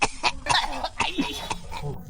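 A person coughs several times in quick succession, close and fairly loud, sharp bursts spaced through a couple of seconds.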